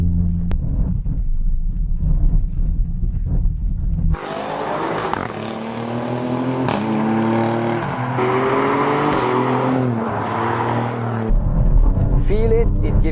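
An Alfa Romeo Quadrifoglio with a 510-horsepower V6 accelerates hard, its engine note rising through several strong pulls heard from inside the car, with wind noise around it.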